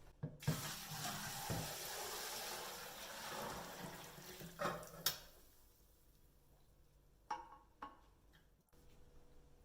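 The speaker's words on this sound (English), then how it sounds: "then you just want to strain it back and forth a few times" Turkey bone broth poured through a colander, a sustained splashing pour for several seconds followed by quieter trickles, drips and a few clanks of the pot near the end, no voices.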